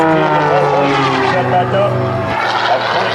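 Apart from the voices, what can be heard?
CAP 580 aerobatic propeller airplane performing maneuvers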